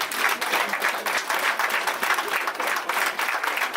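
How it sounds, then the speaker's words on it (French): Warm applause from a gala audience at a Lions Club evening, a thick, steady patter of many hands clapping close by and filling the hall. "de vous applaudir chaleureusement"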